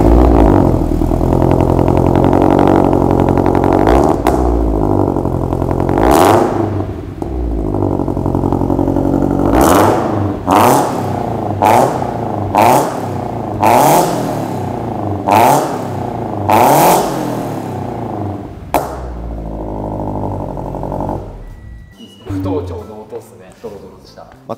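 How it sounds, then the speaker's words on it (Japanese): A Subaru BRZ ZN6 fitted with a Trust straight pipe and Fujitsubo muffler revs repeatedly in sharp, loud blips, about eight quick bursts after a sustained idle hum, close by with some talk. "トラストのストレートで富士坪のマフラーの組み合わせでどんな音になるのかっていうところですね"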